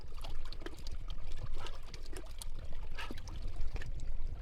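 Cold mountain water flows past a rock in the Carpathians, a close, continuous gurgling and splashing stream with a low rushing undertone.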